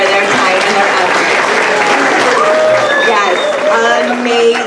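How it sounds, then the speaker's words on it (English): Applause for volunteers at a trivia night fills the room, a dense, steady wash of many hands clapping close by, with some voices and cheering mixed into the crowd noise throughout. "if we could give all of the volunteers one more round of applause for their time and their effort."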